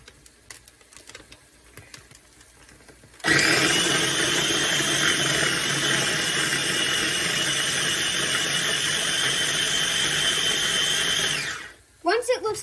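A kitchen blender purees onions, garlic and tomatoes for spaghetti tomato sauce, switching on with a loud, steady whirring roar that runs unbroken for about eight seconds and then cuts off, with quieter handling noise before and after.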